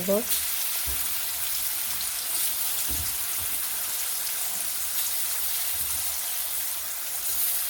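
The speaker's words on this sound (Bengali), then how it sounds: "হালকা হালকা জলে ভাজতে" Ground onion, ginger, garlic and spices fry in a little water with a soft, steady sizzle like light rain, and a voice briefly speaks at the start.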